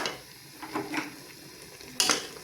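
Black chickpeas being roasted in a spoonful of oil, stirred in a pan: soft scraping strokes and a light, quiet sizzle, with a sharper clink of a utensil near the end.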